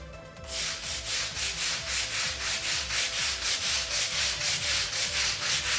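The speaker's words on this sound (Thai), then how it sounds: "เดี๋ยวมาลอง ขัดดูนะครับก็จะใช้แปลงเป็นแปลงไนล่อน ขัดดูก่อนนะครับ" Rhythmic back-and-forth scrubbing of a nylon brush working an oil stain with multi-purpose cleaner, steady strokes roughly twice a second, close and continuous with no talking.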